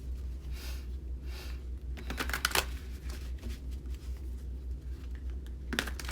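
Tarot cards are shuffled close by in quick riffling bursts, with soft flicks and slaps between them and no talking.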